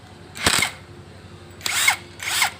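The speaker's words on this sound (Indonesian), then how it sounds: "lepas baut yang berada di atas" Power tool, likely an impact wrench, loosening the upper bolt of a Toyota Avanza shock absorber in three loud whirring bursts, one near the start and two close together at the end, with no talk.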